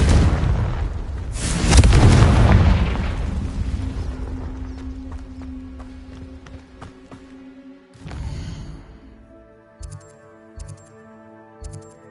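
Confringo spell explosion in Hogwarts Legacy: a loud, close fiery blast swelling after a couple of seconds, then a long rumbling decay with scattered crackles, followed by a few soft thuds and faint chimes near the end.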